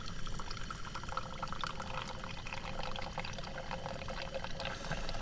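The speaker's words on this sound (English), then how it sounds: "You just pour this over here and, you know, try and keep the grounds covered." Hot water pouring steadily in a thin stream onto coffee grounds, a continuous soft splashing trickle, fairly quiet and close.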